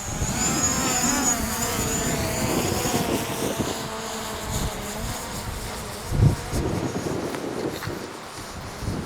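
A DJI Mavic Pro drone climbs straight up in extreme high wind, its rotors giving a steady high buzzing whine, loud and close, under heavy gusting wind noise that rumbles and buffets throughout.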